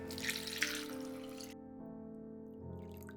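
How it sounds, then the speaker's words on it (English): Water runs from a tap into a pot of chestnuts, a splashing gush that cuts off after about a second and a half, followed by quieter trickles and drips in a kitchen. "I add the ample water."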